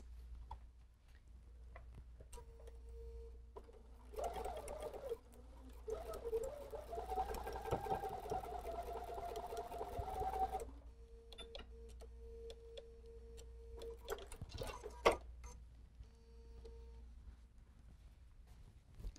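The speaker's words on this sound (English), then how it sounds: "Let's take this to the sewing machine and we'll sew a 1/4 inch seam allowance." A sewing machine runs in a steady whirring burst for several seconds, stitching a quarter-inch quilt seam, with quieter ticks and clicks before and after.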